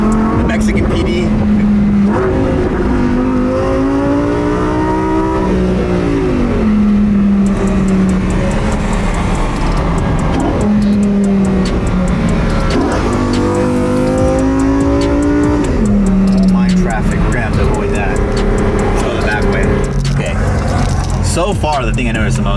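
Twin-turbo Lamborghini Huracan STO engine pulling hard through the gears, loud and close with rising sweeps and shift breaks, while people talk over it.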